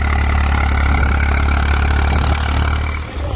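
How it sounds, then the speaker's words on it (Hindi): An Eicher 380 tractor with a 42 HP engine runs loud and steady nearby, a deep, continuous rumble that eases slightly near the end. "अब आइसर 380 है, 42 हॉर्स पावर का मात्र ट्रैक्टर है।"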